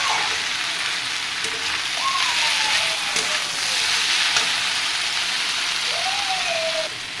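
Water hitting a hot pan of frying fish head masala with onions, setting off a loud, steady, broadband sizzle and crackle that holds for several seconds before easing slightly.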